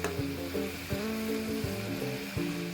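Potato chips fry in hot oil with a dense, crackling sizzle, while a ladle stirring them adds soft scraping knocks at intervals, close and moderately quiet.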